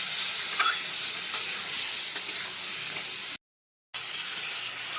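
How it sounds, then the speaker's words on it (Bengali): Potatoes stir-fried with a chilli, turmeric, coriander and cumin paste in a pan, a loud continuous sizzle and hiss with stirring scrapes, cut by a brief silent gap before the frying resumes. "আলু খুব ভালোভাবে কষানো হবে।"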